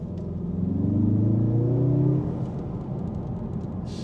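A 2025 Mazda3 Turbo sedan accelerates hard, its engine note rising in a loud, steady surge for about two seconds, then easing back into a lower rumble of road and cabin noise.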